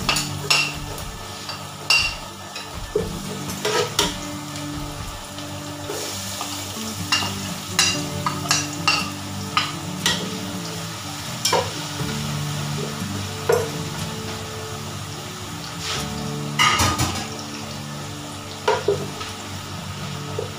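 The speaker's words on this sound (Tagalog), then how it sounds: "Ito na natin yung gisa na natin yung bawang at luya." Garlic and ginger sauté in hot oil in a pot for a pilau biryani base, giving a continuous sizzle with repeated metallic scrapes and clinks of a spoon against the pan, close and fairly loud.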